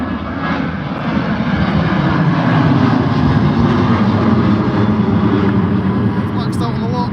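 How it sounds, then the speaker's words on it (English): Ryanair Boeing 737-800 jet at Liverpool John Lennon Airport, a steady loud roar of jet engines sustained throughout as the aircraft passes nearby, with a person's voice heard over it. "That's the Ryanair 737-800."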